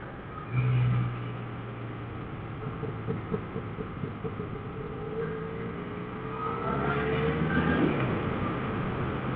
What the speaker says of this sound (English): I guess some might like this exhaust. It's bubbling.